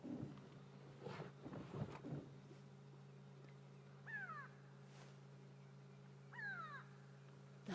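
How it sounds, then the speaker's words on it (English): At sunrise in Sabi Sand, South Africa, grey go-away birds give alarm calls as a few harsh, descending nasal cries heard at a moderate distance, with other bird calls and a faint steady hum in the background. "the go-away birds alarm calling. And that is not a normal go-away bird call, that is an alarm call"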